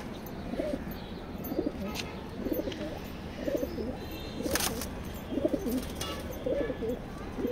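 A pair of racing pigeons, a white racer cock and a white grizzle hen, coo in repeated soft bursts at close range over a low background hum, with faint sharper chirps now and then.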